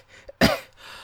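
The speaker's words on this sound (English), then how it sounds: "my cough is a little troublesome" An old man gives a single sharp cough or throat-clearing burst, close and moderately loud, with a quieter short sound just before it.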